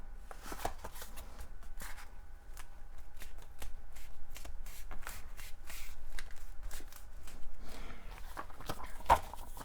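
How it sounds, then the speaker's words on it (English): Paper pages are handled and creased in half, with a run of close, dry rustles and crackling paper shuffles that keep up steadily throughout. "Let me fold this in half first."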